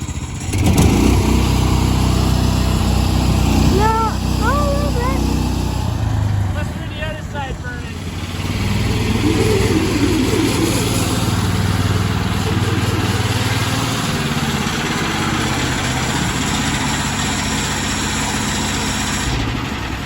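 A 15 HP go-kart engine fitted to a Ford Model A runs loudly and close by, revving up and settling into a steady drone, with people talking over it.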